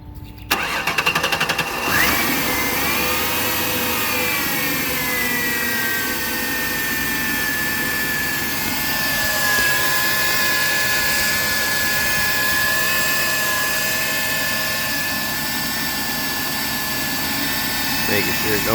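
Ford Taurus 3.0L V6 engine cranks briefly, catches and settles into a steady, loud idle with a constant hum and a faint high whine, close by.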